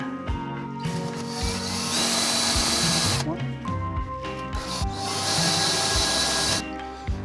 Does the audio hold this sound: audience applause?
no